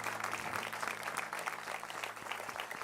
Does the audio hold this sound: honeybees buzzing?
no